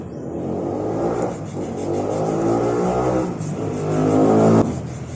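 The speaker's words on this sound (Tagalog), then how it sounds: "Kaya ang ingay ng mga sasakyan, mga kahit anong dumadaan sa kalsada." Cars passing along a roadside street beside a home, engines rising and fading in overlapping waves with a steady traffic hum, fairly close and loud, no voices.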